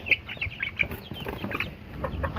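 Spotted hens and their chicks in a cage cluck and chatter in a busy, close flock, the short calls overlapping continuously with no talking.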